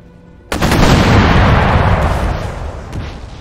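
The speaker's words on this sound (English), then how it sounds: "My hand mortars are going to pop up and surprise them." Hand mortars fire in an Empire Total War battle: one loud, sudden blast lands after a moment of quiet, then a heavy rumbling roar slowly fades over the next few seconds.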